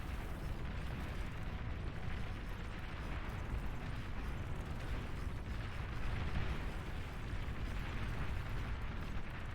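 Mortar bots firing in the real-time strategy game Beyond All Reason, a dense continuous rumble of overlapping explosions and launches rolling on without pause at a steady loudness.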